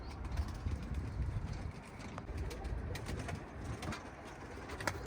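Tumbler pigeons coo softly outdoors over a constant wash of background noise, with a few faint calls rising now and then.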